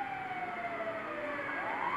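Wailing police car siren in the GTA video game, a steady sweeping tone that slides down then rises again, loud and continuous with traffic noise underneath.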